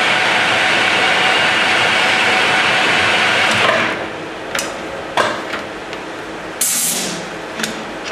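A metal lathe turning a taper gives a loud, steady cutting hiss at first, then settles into quieter running broken by several sharp clicks and knocks.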